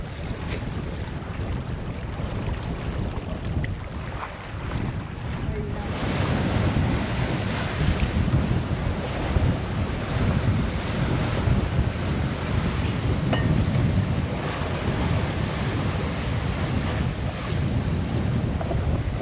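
Sailboat under way at sea heading toward Sète, a steady rush of wind buffeting the microphone over washing waves and hull noise, continuous and loud with no talk.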